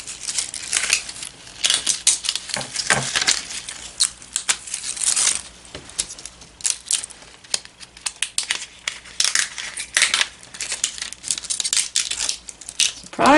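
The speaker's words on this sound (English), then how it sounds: "Or like paper, rip it." Thin Cricut Infusible Ink transfer sheet torn by hand like paper, a series of close crinkling, tearing rips in irregular bursts with no talking.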